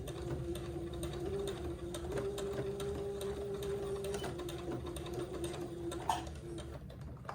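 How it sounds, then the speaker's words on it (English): Domestic sewing machine running steadily as it stitches back and forth to tack an elastic casing on a baby girl's layette garment, a continuous mechanical whir with fine ticking, close and alone. "I will sew back and forth and tack this into place."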